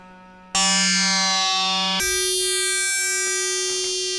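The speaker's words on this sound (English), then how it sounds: "That's some classic FM sounds." An Arturia MicroFreak synthesizer plays classic FM patches. Two bright, buzzy sustained notes with dense metallic overtones ring out, the first starting abruptly and the second taking over at a higher pitch, loud and close with no speech.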